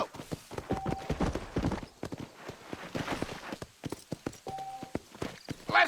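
Hooves of a horse in Red Dead Redemption clip-clop in a steady walking rhythm, close and distinct, with a few brief voiced sounds mixed in.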